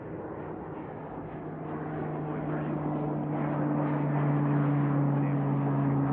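A Pilatus PC-12 turboprop takes off at an airport, its steady droning engine tone with a strong low hum growing gradually louder over several seconds and staying continuous to the end.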